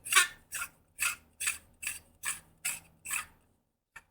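Threaded metal chassis of a custom Neopixel lightsaber with brass machined innards being unscrewed by hand, heard as eight evenly spaced rasping scrapes close up, then a brief faint click.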